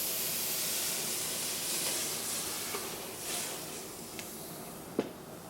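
A pan sizzles as it browns food for a filet mignon dish with sour mash bourbon, giving a constant close hiss with a soft stirring scrape and a brief sharp crackle near the end.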